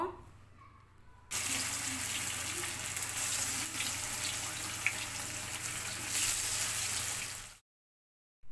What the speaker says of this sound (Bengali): মাছগুলো দেওয়ার পরে ভাজি করে নিয়েছি